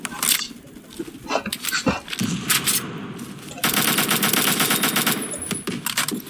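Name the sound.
gunfire from the video game Phantom Forces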